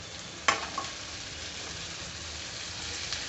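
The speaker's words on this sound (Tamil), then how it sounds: "இப்போ இது ஒரு 2 மினிட்ஸ் வந்து நல்லா வதக்கி விட்டுக்கோங்க" Half a kilo of crab being sautéed in masala for Chettinad crab gravy, an even, moderate sizzle with one sharp utensil clack near the start and a few light stirring scrapes.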